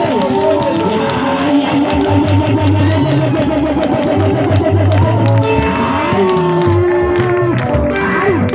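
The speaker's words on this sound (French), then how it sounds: "Nous allons le recevoir avec vos acclamations." A church congregation cheers and acclaims loudly, a dense mass of shouts, whoops and clapping filling the room, with voices rising and falling in waves.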